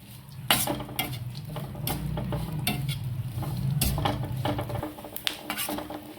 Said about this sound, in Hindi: इसमें जो ये खरबूजे के बीज हैं ये चटर पटर हो रहे हैं